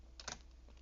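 Computer keyboard typing while entering a document name in 3D CAD software: a brief cluster of soft, close keystroke clicks, then quiet.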